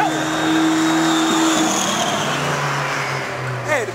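An Acura car at a drag race drives past, with a loud engine tone that holds and then drops away, a brief squeal near the end, and voices talking in the background.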